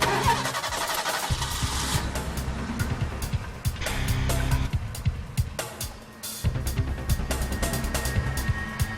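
A car engine starts and revs as the vehicle is driven off, a rough mid-pitched roar with sharp knocks and bumps, fairly close and continuous.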